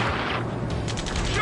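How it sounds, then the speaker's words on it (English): Bursts of gunfire in the video game Ace Combat 7 rattle through a dense, loud battle mix during a pinned-down firefight, with no clearly separate shots. "Return fire! Sierra 2, hold position! We're cut off! Taking fire! We're pinned down!"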